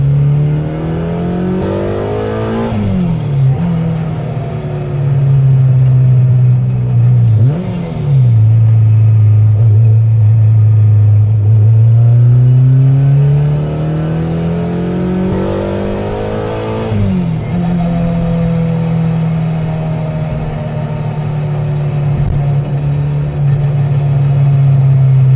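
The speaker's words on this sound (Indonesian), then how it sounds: "tak start engine, korang dengar dengan jelas kan Adrian punya suara. Engine dah start" Honda DC2 engine running steadily from the cabin on a daily drive, with several rises and dips in revs, including a few sharp blips, and a constant loud drone throughout.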